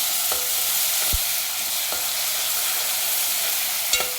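Garlic and ground green paste sautéing in a pan for a prawn curry, a loud continuous sizzling hiss with a handful of spaced spatula knocks against the pan, up close and free of voices.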